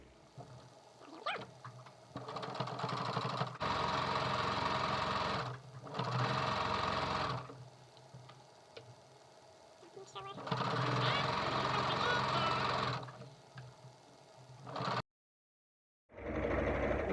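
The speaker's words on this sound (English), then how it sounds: "now I'm just going to go ahead and sew another 1/4 of an inch down that" A sewing machine stitches a quilt-as-you-go table runner, running in several loud, steady whirring bursts separated by brief pauses, with a person speaking at times between runs.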